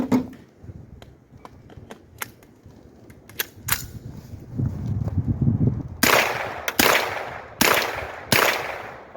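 Rifle shots fired through a Blast Forward muzzle brake, with light clicks and handling noises at first, then five sharp, loud outdoor shots spaced about a second apart.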